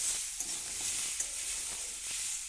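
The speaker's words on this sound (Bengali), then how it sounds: "তো হলুদটাকে দিয়ে একটু তেলের মধ্যে নাড়াচাড়া করে নিলাম" Turmeric is stirred into hot oil, producing a steady close sizzle with a few light spoon taps and scrapes.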